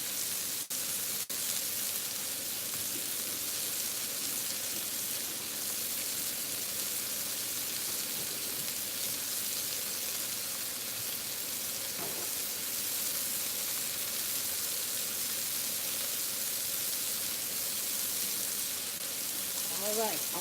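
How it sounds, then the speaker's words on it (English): Tap water runs steadily into a kitchen sink as hands are washed between cooking steps, a continuous even hiss lasting throughout with a few faint clicks. "So I'm going over and wash my hands."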